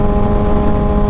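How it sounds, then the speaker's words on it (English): A Kawasaki Ninja ZX-6R motorcycle exhaust running loud and close, a steady dense engine drone with no break through the short stretch. "this exhaust is super loud though"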